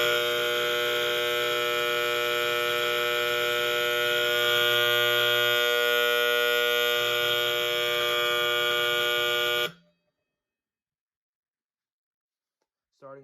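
A Simplex 4030-1B fire alarm horn blares a loud, steady, buzzing electronic tone for about ten seconds, then cuts off abruptly into silence.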